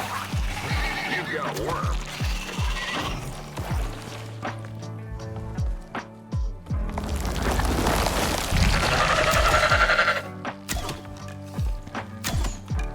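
A horse in the survival video game Icarus whinnies in short bursts amid game sounds and thuds, with someone talking over it.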